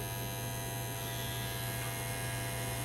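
Caliber 357 Magnum Gen 3 hair clippers switched on and running, a steady, even electric buzz with a strong low hum that holds unbroken and fairly loud for the whole stretch.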